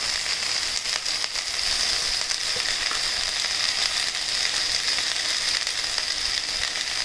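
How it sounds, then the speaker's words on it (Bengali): Neem leaves frying in a pan give a steady, dense sizzle that holds at an even level throughout, close and continuous with no talking. "এইভাবে ভালো করে ভাজতে হবে।"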